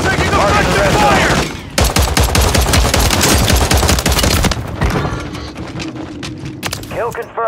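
Sustained bursts of automatic gunfire rattle through a Call of Duty Resurgence match, loud and dense with a brief break before resuming, with voices speaking over the shooting.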